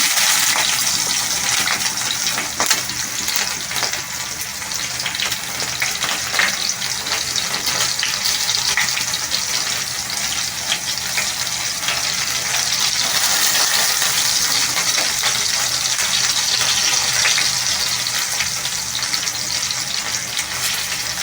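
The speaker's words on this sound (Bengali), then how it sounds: "এই তেলের মধ্যে এগুলো একটু আমি ভেজে নেব।" Whole spices, including cinnamon and mace, frying in hot oil in a wok, a loud, dense, steady sizzle that carries on without a break for about twenty seconds, with no one talking.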